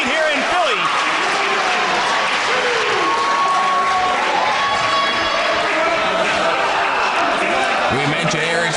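A wrestling crowd in Philadelphia cheers and applauds throughout, a dense, loud roar of clapping and shouts with a commentator talking over it.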